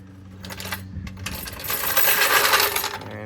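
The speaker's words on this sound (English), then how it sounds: "You can hear it popping and creaking as it goes." Front coil spring on a 1970 Chevrolet Monte Carlo pops, creaks and clicks as a jack slowly lowers the suspension, a close mechanical crackle that grows louder and denser over a few seconds, with no talking.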